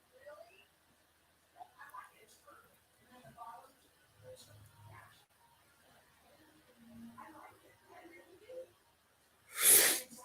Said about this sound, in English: I started sneezing, forgot my allergy meds, and now my nose is clogged up.